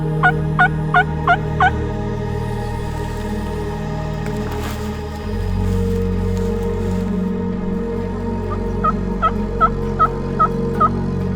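A wild turkey gobbles in the Washington outdoors, two clear rattling bursts near the start and end, set against a steady hum of wind or background noise, moderately distant and with no voices.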